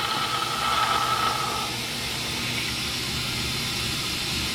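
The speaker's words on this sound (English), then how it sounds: "sucking out all this excess oil" Suction pump drawing excess engine oil out of a BMW E90, a steady close hiss with a gurgling, straw-like rasp that fades slightly partway through and then holds even.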